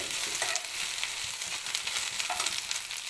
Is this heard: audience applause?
no